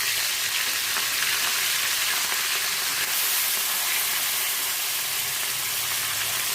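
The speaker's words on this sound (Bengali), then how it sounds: "এই যে বড়ো মাছের সঙ্গে ছোটো মাছের দিয়ে দিচ্ছি, সব একসঙ্গে ভাজা হবে।" Big and small fish frying together in hot oil in a pan, a loud steady hiss and crackle that goes on without a break, close by.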